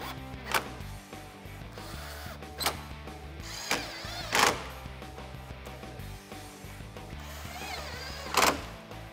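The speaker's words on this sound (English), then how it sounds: "So now I'm ready to reinstall the 8 screws at the top of the bumper" A power drill drives bumper screws back in on a 2015-2017 Ford Mustang, several short separate whirring bursts spaced a second or more apart, close and moderately loud over a faint background hum.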